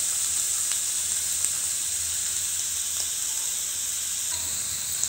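Partly cooked minced meat keema frying in a pan after a capful of vinegar goes in, a loud steady sizzle and hiss throughout with occasional faint stirring clicks and no talk.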